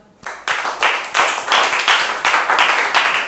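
Classroom applause during a school lesson on air pollution; students break into quick, energetic clapping in rhythmic bursts, close and loud, lasting a few seconds.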